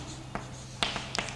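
A marker or chalk writes on a board in a classroom lecture on C++ inheritance: a few faint, brief scratchy strokes and taps, spaced irregularly over a quiet room hum.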